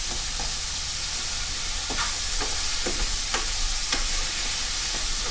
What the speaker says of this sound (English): Nice and sizzly.